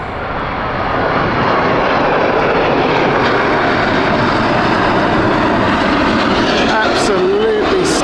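Airliner named Red Velvet passing close at Heathrow, a loud, steady broadband engine roar that swells in and holds throughout, with voices talking over it.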